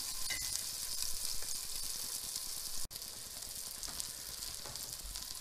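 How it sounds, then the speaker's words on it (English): Vegetables sauté in a pan for a vegetarian pasta, giving a steady, close sizzle and crackle with a brief clink partway through, no voices over it. "So I'm going to let it saute for 2 or 3 minutes."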